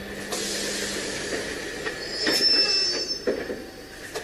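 An EMU electric multiple unit train creeps slowly toward another unit for coupling, with loud high wheel squeal, hissing air and a few clanks and clicks up close, and no one talking.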